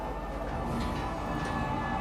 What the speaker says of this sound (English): Please watch your step when disembarking the train.